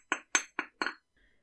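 Metal wire for a wire-wrapped ring is struck with a hammer in four light, sharp metallic taps in quick succession, followed by a short, quiet ring-out.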